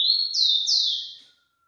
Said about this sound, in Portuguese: o passarinho tá cantando demais, ó